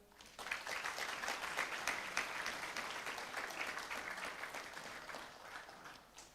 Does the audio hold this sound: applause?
yes